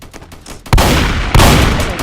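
Shotgun blasts in a shooter video game, two loud booming shots roughly half a second apart, each with a long ringing tail, preceded by quieter game noise.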